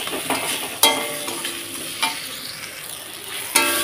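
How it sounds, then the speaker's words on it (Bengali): Ground spice paste for a potato-cauliflower niramish sizzles in a hot pan while being stirred, a continuous frying crackle broken by three sharp scrapes of the spoon against the metal. "মশলাটাকে আমি ভালোভাবে কষিয়ে নিচ্ছি"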